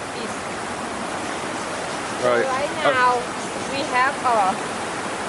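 Heavy rainwater pours off a house like a waterfall during flooding, a steady broadband rush lasting throughout while someone talks over it intermittently.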